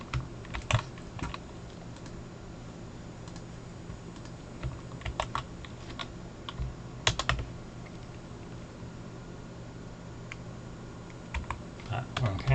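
Quiet keystrokes on a computer keyboard tap in uneven bursts as code is copied and pasted, close and soft against a faint steady background hum.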